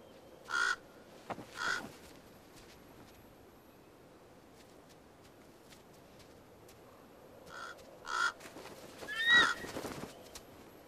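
A raven calls near a bald eagle: harsh, croaking caws in two clusters, a pair early and a longer run of three or four near the end, fairly close over quiet outdoor background.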